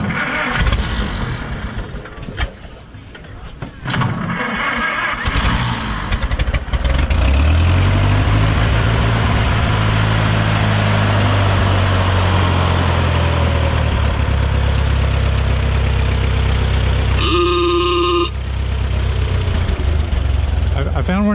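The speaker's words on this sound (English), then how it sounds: "And step on the starter." A vintage car at a concours show is cranked on its starter after the choke and spark are set; the engine catches and runs with a loud, steady low rumble and idle that persists, with people talking nearby.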